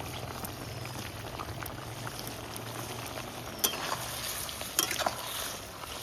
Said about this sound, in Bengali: তো এবার ভেজে রাখা বেগুনগুলো দিয়ে দেবো।